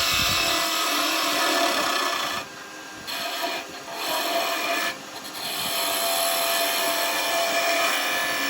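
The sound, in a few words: finger gouge cutting wood on a woodturning lathe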